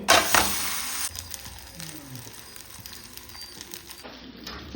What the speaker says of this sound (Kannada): ಫ್ರೈ ಮಾಡಲಿಕ್ಕೆ ಒಂದು ತವ ಇಟ್ಟಿದ್ದೇನೆ ಹಾಗೆಯೇ ಸ್ವಲ್ಪ ಎಣ್ಣೆ